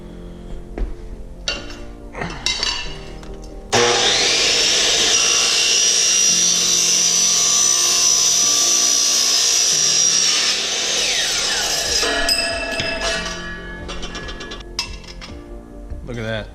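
A power tool cuts around an aluminum intake pipe for a turbo LS build, a loud sustained whining cut lasting about eight seconds between clinks and handling noises.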